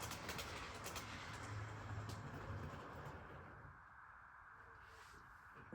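A GNR model railway train runs around a layout in a faint, continuous rolling rumble with light clattering, steady throughout and heard alone.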